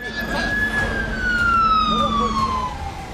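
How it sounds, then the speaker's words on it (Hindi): A wailing siren sweeps slowly downward in pitch after a blast in Kabul, fairly loud over road noise, with a voice faintly audible underneath. "फिर सायरन की आवाज"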